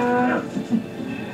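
Cattle moo during loading, one drawn-out low call followed by shorter grunting lows, close and loud.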